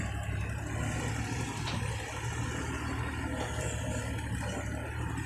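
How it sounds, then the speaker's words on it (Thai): A Kubota KX91-3 mini excavator's small diesel engine runs at a low, steady idle, a muffled mechanical rumble with slight unevenness and no voices over it. "เสียงเครื่องเงียบนะครับ"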